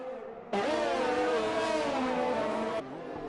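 Race car engines in a sim racing game at the Singapore circuit roar as cars accelerate, a loud sustained blended drone with rising pitch lasting about two seconds over quieter background sound.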